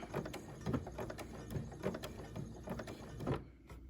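A sewing machine back-stitches fabric binding with a quiet, steady, rhythmic mechanical whir that runs for about three seconds and then stops.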